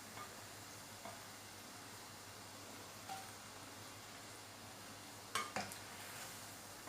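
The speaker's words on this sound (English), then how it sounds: "You should fry it on a medium heat so that it fries nicely from inside and outside both" A pan of lauki and paneer koftas frying over medium heat gives a faint, steady hiss of oil, with a couple of light clinks near the end.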